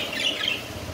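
Pet parrots, two females, giving high, shrill calls and squawks that waver over a steady background hiss, fairly close, with no talking.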